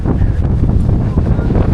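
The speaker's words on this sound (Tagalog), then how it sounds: "medyo lumalakas ang hangin" A short burst of strong coastal wind on Garza Island rumbling across the microphone, low and continuous, with faint noise of rising waves beneath it.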